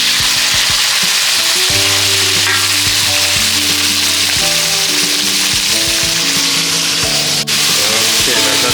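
Onion, garlic, tomato, green chillies and red chillies sizzle loudly in a hot pan for a South Indian spicy crab curry, a steady close frying hiss with stirring scrapes throughout.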